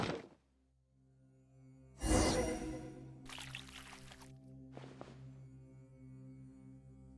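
Water poured in Genshin Impact, a short splashing pour that rises suddenly, then a quieter trickle and a second brief pour over a steady low hum.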